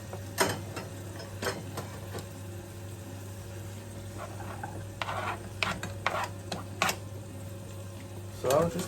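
Spring onions frying in a pan for a plantain frittata, giving a soft steady sizzle under occasional stirring and utensil clinks, with a low steady hum beneath.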